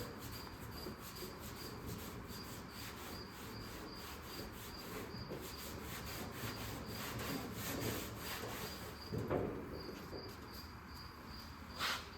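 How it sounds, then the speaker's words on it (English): Old car paint, about 63 years old, polished by hand in rhythmic back-and-forth rubbing strokes, close and steady, with insects chirping continuously in the background. "Let's just go ahead and polish this area up over here."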